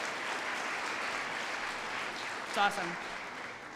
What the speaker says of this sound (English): So another little round of applause.